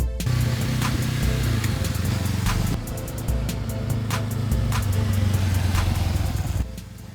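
A 2021 Honda CB500X's 471cc liquid-cooled parallel twin engine runs close by, a steady mid-pitched drone that rises and dips with throttle blips, with a short lull partway through.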